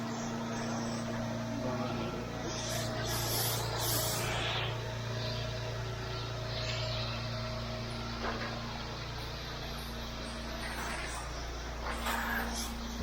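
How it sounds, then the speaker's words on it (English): A gas-powered AR45 roof pump sprays a light water rinse, a broad steady hiss of spray over the constant drone of the engine, continuous throughout with a faint voice now and then. "Just do a nice light rinse."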